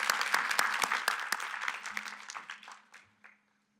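Audience applause for the judges at an awards and recognition luncheon, with sharp individual claps standing out in the crowd before it thins out and stops.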